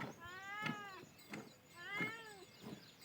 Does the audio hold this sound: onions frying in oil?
no